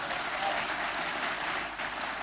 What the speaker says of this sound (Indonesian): Tepuk tangan untuk kompak.